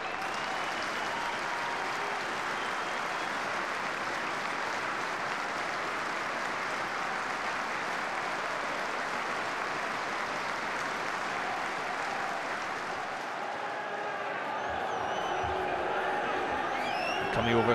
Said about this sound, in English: There will be a minute's applause ahead of the game for former Dundee United captain, director and chairman, Doug Smith.